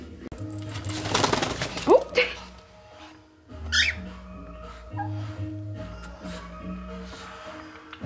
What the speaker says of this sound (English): Do you see the little bird?